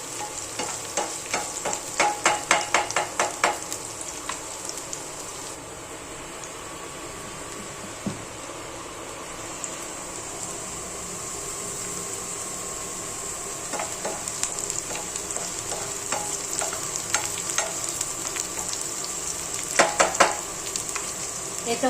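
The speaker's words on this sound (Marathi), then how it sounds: "ही रेड मिरची ना तेलामध्ये चांगली भाजून द्यायची." Red chillies frying in oil for a chutney, a continuous hiss of sizzling oil broken by bursts of rapid spatula scraping and clatter, close up with no talk.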